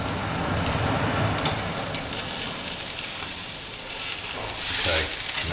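Steak sears in a very hot pan, a loud continuous sizzle and hiss with steady spitting crackle throughout, swelling slightly toward the end.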